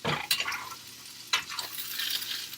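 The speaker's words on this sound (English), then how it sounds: "I've got 2 potatoes cooking here" Two potatoes cooking in butter in a pan, a soft steady sizzle with a few sharp scraping or stirring bursts, close and moderately quiet with no voices.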